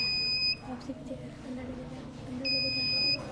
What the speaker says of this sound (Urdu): چور جیسے آئے گا تو اس میں ایک الارم بجنے لگے گا